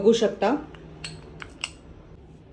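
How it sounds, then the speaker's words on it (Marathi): A spoon clinks and scrapes in a bowl while a spice mix with amchur powder is stirred, with a few quick metallic taps after two louder strokes at the start. "हे सगळं मिश्रण आता व्यवस्थित ढवळून घेऊ"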